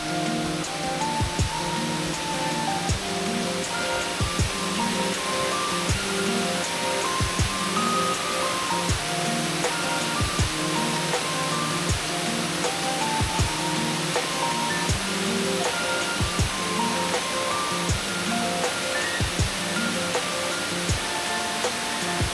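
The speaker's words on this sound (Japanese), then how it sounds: "結構水量多いですね。" A rain-swollen stream rushes through a forest on a rainy day, a steady broadband roar of flowing water that fills the whole stretch without pause, with no voices.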